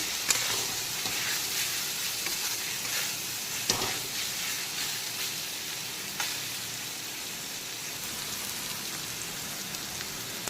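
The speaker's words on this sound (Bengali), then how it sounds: "এখন নারকেল কোড়াটাকেও বেশ কিছুক্ষণ মশলার সঙ্গে কষিয়ে একটু ভাজা ভাজা করে নেব।" Grated coconut frying with spices in a pan for a shrimp and vegetable dish, giving a steady, close hiss like light rain with a few sharp ticks and pops, no voices.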